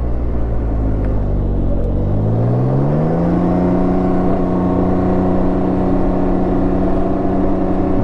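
A 2019 Can-Am Ryker Rally three-wheel motorcycle rides along on a commute, its engine rumbling loud and steady with a rising pitch as it accelerates in the first few seconds, then holding an even drone under constant wind noise.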